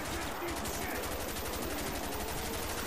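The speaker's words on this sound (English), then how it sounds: "Swapping over to the RPK now." RPK machine gun in Call of Duty Black Ops Zombies firing in a fast continuous automatic stream, loud and close, with a voice faintly underneath.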